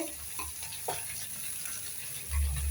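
Chillies, cauliflower, capsicum and carrot sauté in a pan for veg noodles, a continuous close sizzle with occasional stirring scrapes and a low thump near the end, no talking.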